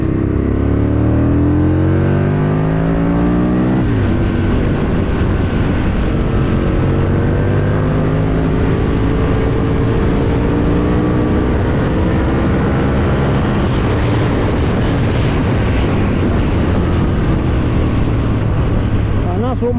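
Aprilia RSV Mille Haga motorcycle engine droning steadily while riding at about 40 mph, loud and continuous with wind rush and shifting engine tones throughout, with no talk.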